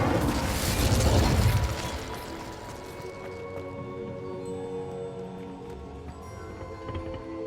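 An Incendio fire spell cast in Hogwarts Legacy bursts out with a loud whooshing blast at the start, then settles into a softer lingering crackle with faint tonal ringing.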